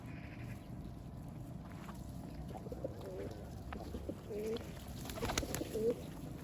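Mardin tumbler pigeons coo softly and far off, a few faint, low calls over a quiet outdoor background.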